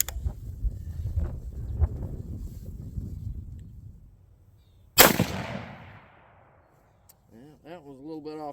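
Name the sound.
Seekins Precision Havak PH2 hunting rifle shots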